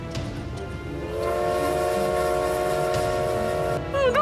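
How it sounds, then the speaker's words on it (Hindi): A train on a rail line begins to move, a steady drawn-out horn or whistle tone sounding over low rumbling rail noise and holding for several seconds before cutting off. "चलने लगी है ट्रेन, चलो।"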